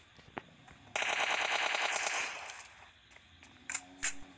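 Automatic gunfire in PUBG Mobile Lite: a single shot, then a sustained rapid burst of about a second and a half, followed by a few scattered later shots, fairly close and with no talk.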